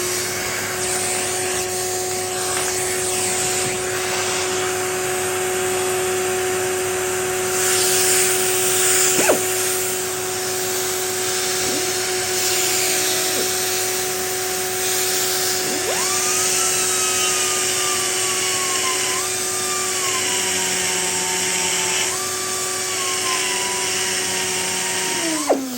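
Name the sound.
vacuum cleaner (hoover) running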